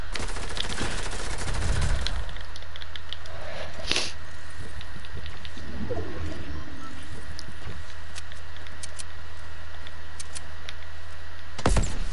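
A sharp sniper shot cracks at the start of a video game scene, followed by a sustained steady hum of background noise with a few faint clicks and a second sharp hit near the end.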